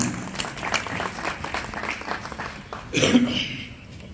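An audience applauds at a press club oath-taking meeting held in a marriage hall in Chakswari. The clapping is steady and moderately loud, then a voice takes over near the end.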